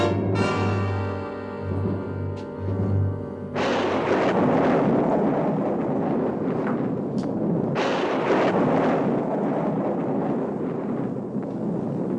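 A big thunderstorm builds outside, with a deep rolling rumble and heavy roaring noise that swells after a few seconds and stays loud, under a musical tone at the start.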